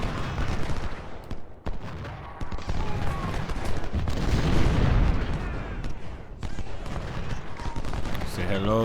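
Gunfire and artillery in Ultimate General: Civil War during a Gettysburg battle, a steady din of crackling musketry and booming cannon shots that continues throughout without letting up.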